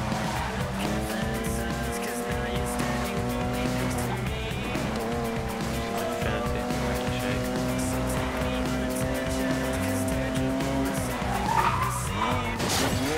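A Chevrolet Cobalt racing in Need For Speed Most Wanted (2012), engine droning steadily with sustained tire squeal and skidding throughout, close and loud, with a voice talking over it.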